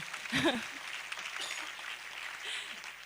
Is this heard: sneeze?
no